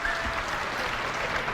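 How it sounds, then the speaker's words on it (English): Steady applause and cheering from a big crowd fill an Apple keynote hall, a dense, even roar of clapping that carries on throughout. "That's the cheering."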